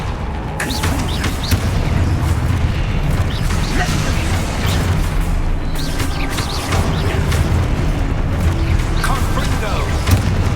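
The Confringo fire spell lands in Hogwarts Legacy, its fiery blasts booming through a dense, continuous combat roar with repeated sharp bursts and crackling layered over the rumble.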